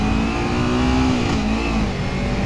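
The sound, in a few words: Ninja 300 motorcycle engine revving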